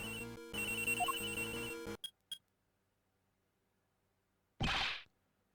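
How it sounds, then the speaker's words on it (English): In the Ace Attorney Investigations video game, cell phones ring as a loud electronic ringtone for about two seconds, then a couple of short beeps, silence, and one more bright burst of tone. "That's her cell phone. Mine also is ringing."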